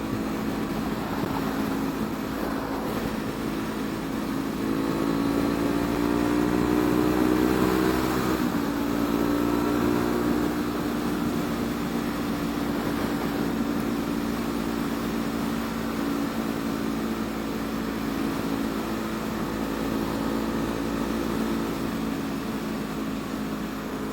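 Honda CB500F motorcycle engine cruising on a highway, a steady droning hum with a rising rev near the start, then a shift and a constant tone, with wind noise throughout.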